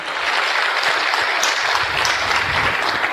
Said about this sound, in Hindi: तो हमारी कमिटेड टीम के लिए जोरदार तालियां